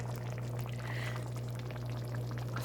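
Tomato sauce for steak pizzaiola bubbles in a pot on the stove, a dense steady simmer of popping and sputtering over a constant low hum, with no talking.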